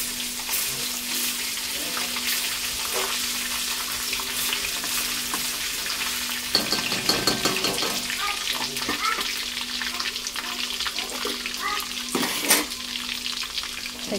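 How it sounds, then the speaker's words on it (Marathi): Paste hitting bloomed cumin in a hot pan for chicken biryani, a steady close sizzle and crackle throughout with a brief louder burst of frying midway and faint stirring scrapes, no talking. "जिरं आपलं चांगलं फुललंय, त्याच्यामध्ये थोडी मी पेस्ट टाकते"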